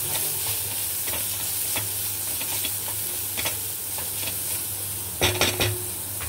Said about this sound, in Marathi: आता हलवून घेऊया